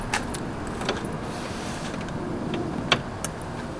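Electric running boards on a custom Toyota Tundra deploy with a steady, moderately quiet motor whir, punctuated by a few faint clicks and knocks near the start, middle and end. No voices are present.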